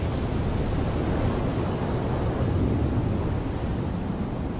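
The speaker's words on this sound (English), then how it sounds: "his mother chooses a particularly rough surf day" Rough ocean surf churns steadily and loudly throughout, a dense unbroken wash of breaking waves with a wind-like roar and no distinct individual crashes.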